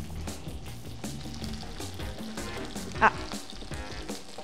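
Octopus fries on an Adventys induction plate with a steady, dense crackling sizzle throughout, punctuated by a sharp pop, and a person briefly murmurs.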